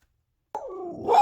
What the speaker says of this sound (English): there's these puppies that are howling, and there's a dog that's howling at the puppies, and then Olive is getting upset